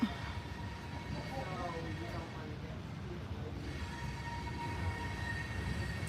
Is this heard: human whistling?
no